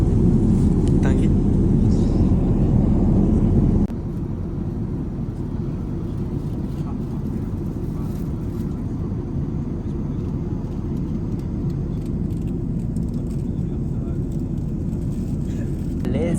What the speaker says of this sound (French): Vous avez un bruit horrible d'avion, je pense.